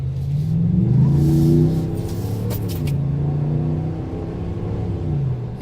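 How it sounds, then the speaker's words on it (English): A 2018 Ram truck fitted with a K&N intake rumbles as it takes a light blip of throttle, engine note rising then settling back to a steady idle, close and alone. "just give it a little gas and see what we got here"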